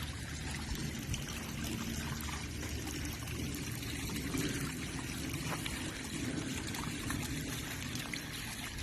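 Water trickles steadily into a decorative garden pond at night, a continuous soft pouring and splashing that stays even and unbroken throughout, with no voices.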